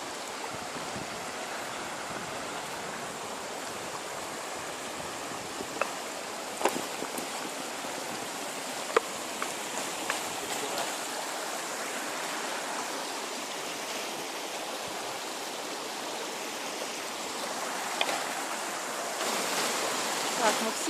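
Water rushes steadily underfoot at a river crossing near the Zhene river waterfalls, a constant broadband roar close by with a few brief splashes and knocks, no talking.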